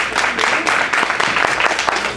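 Audience applause at a library celebration for the Urdu Library in Atlanta, a steady dense clapping from a crowd that holds for a couple of seconds with no pause.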